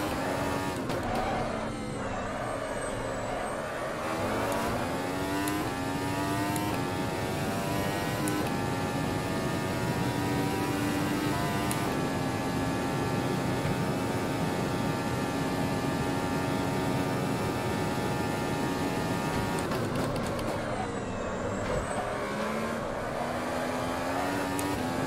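A 2019 Formula 1 car laps Road Atlanta in the Automobilista 2 racing game, its engine screaming loud and steady with rising and falling harmonics through gear shifts, continuous for the whole stretch with no talk.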